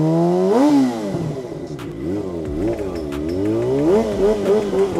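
A motorcycle engine revs close by, its pitch climbing and falling in repeated surges of throttle, loud and steady, with no talking over it.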